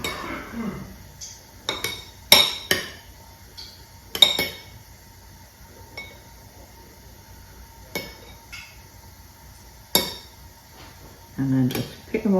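Metal spoons clink and scrape against a bowl as Scotch eggs are rolled in beaten egg, giving several sharp, irregular taps close by in a quiet kitchen with a voice heard briefly.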